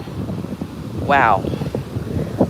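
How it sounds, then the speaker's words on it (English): Wind buffets the microphone with a low, uneven rumble, and a brief rising tonal call cuts through midway. "It is pretty windy."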